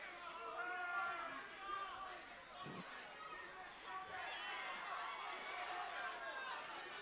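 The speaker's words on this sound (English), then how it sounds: "you can hear a lot of the crowd are already engaged with this bout" Crowd at a university varsity boxing bout in Sheffield, a steady murmur of chatter and raised voices filling the hall with one brief louder shout, continuous throughout.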